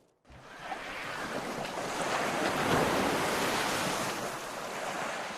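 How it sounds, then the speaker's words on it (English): Ocean surf washes up onto a sandy beach, one broad swelling rush of waves that rises, peaks midway and slowly eases, with wind buffeting the microphone. "females surf in on the waves"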